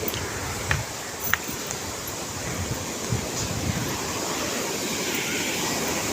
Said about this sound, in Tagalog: Malakas yung daloy dahil kayari ng bagyo